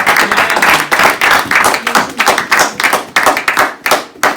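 A church congregation claps in rhythm to acclaim Jesus, loud, close and sustained, with sharp hand strikes repeating steadily and no talking over them.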